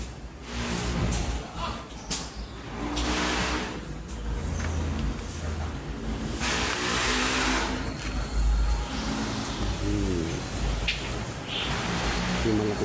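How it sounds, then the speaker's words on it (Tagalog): Roadside traffic passes near a cemetery with houses around, heard as a continuous rumble of cars and heavier vehicles with rising and fading engine swells, while a voice talks over it. "Maliban lang po sa mga tunog na mga sakyan. Kasi malapit po sa sa kalsada po."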